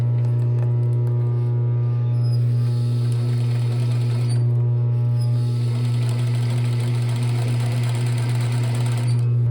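Zigzag stitching on a sewing machine, attaching elastic to spandex swimwear fabric; a steady, loud continuous motor hum with rapid needle rhythm running throughout, no talk.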